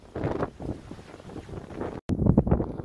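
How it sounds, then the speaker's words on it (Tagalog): Strong gusting wind buffets the microphone outdoors in a desert sandstorm, loud roaring blasts that rise and fall, cut off by a brief silent gap before resuming hard. "Lakas ng hangin."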